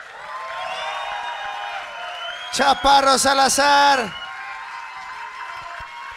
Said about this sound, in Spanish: Un aplauso para toda la mesa de la logia.